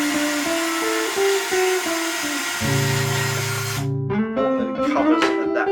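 Power drill boring a hole during sailboat deck work on a pulpit and bulwark caps, a steady whirring drone that shifts pitch partway through, then stops and gives way to clattering handling noises.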